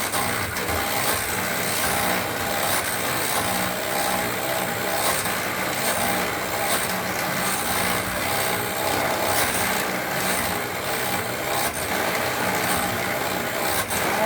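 A running electric mixer, sped up while beating batter for a Snickers cake, gives a loud, steady whirring drone that holds without pause for the whole stretch.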